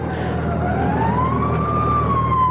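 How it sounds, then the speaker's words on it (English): A fire engine siren wails in a radio drama, its tone sweeping slowly up and down, loud and steady above a low traffic rumble. "Fire engine?"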